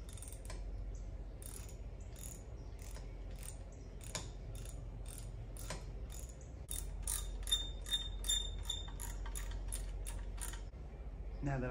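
A ratchet clicks in quick rapid runs while retightening the cylinder head bolts on a Ford 8N tractor, close and fairly quiet, with metallic clinks and low background hum.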